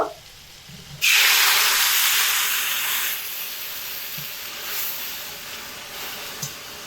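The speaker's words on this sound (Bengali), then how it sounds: "এর মধ্যে আগে করে নিয়েছিলাম যে গরম জল সেই গরম জল এর মধ্যে পরিমাণ মতো দিয়ে দেব" Hot water poured into frying lentils for a banana-flower dal sets off a sudden loud hiss of steam and sizzle. It stays strong for a couple of seconds, then settles into a softer bubbling sizzle, close up, with no talking.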